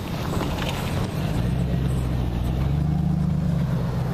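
A pickup truck engine revving hard nearby, a loud sustained low rumble that holds steady and swells slightly over a few seconds, with no talk over it.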